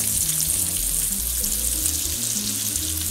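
A tied ossobuco sears in a hot frying pan, giving a steady, loud, close sizzle and crackle of frying meat throughout, with no one speaking.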